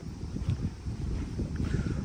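Wind gusting across an open hilltop on a forest hiking trail near Kathmandu, a low rumbling buffet against the microphone that swells and eases, steady and fairly loud, with no voices.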